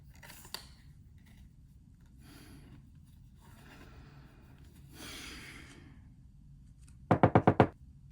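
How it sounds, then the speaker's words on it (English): A quick burst of four or five sharp knocks on a door, close and crisp, following a stretch of quiet room noise with faint rustles. "I hear a knock at the door."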